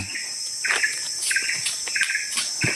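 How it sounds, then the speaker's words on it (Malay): Birds in a garden give repeated bright chirps over a constant high insect-like trill, several calls in quick succession nearby. "bunyi burung-burung berkicau"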